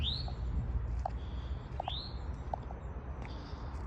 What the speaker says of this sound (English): And is that an oriole? That might have been an oriole.